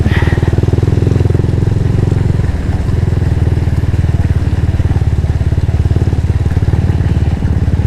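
A motorcycle rides along a gravel road in Aurora, its engine putting out a loud, steady, rapid pulsing drone up close, with light clatter from the surface underneath and no talking.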